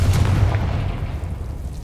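A Confringo spell explosion in the Hogwarts Legacy video game sounds as a loud, deep boom with a rumbling tail that fades slowly and stays close.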